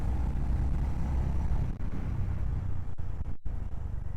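Steady engine drone from a Honda motorcycle, an H'ness or CB350, cruising in third gear, heard as continuous low rumble and wind rush close up with a couple of brief dips.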